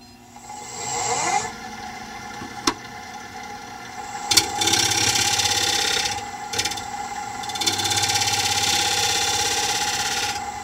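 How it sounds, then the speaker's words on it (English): A wooden bowl spins on a lathe as a tool chamfers its edge, giving a steady mechanical whir with rough scraping bursts and a few sharp clicks, close and fairly loud, with no talking. "I'm going to chamfer this edge off."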